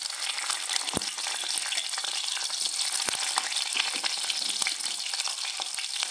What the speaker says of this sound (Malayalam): എണ്ണ ഒഴിച്ചിട്ടുണ്ട് നമുക്ക് ചെറിയ ഉള്ളിയും വെളുത്തുള്ളി ഇട്ട് കൊടുക്കാം